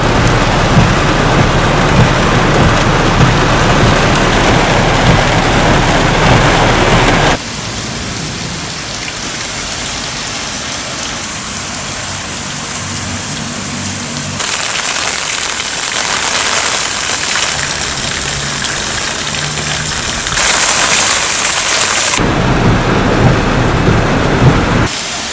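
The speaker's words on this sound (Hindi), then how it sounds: "लेकिन इस बारिश में ही जाने का कुछ और मज़ा है।" Heavy stormy rain pours steadily as a dense, continuous hiss that shifts in intensity and brightness over time, with no voices.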